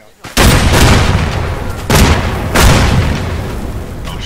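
Loud, close frag grenade blasts in the Vietnam War shooter MAC-V SOG, three heavy booms in quick succession, each decaying into a rumbling tail.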